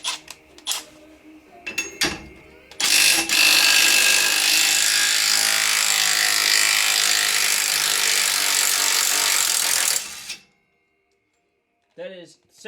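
A socket on a long extension works loose the imperial centre bolt of a race mower, a loud sustained grinding rasp for about seven seconds after a few knocks, then silence and a brief voice.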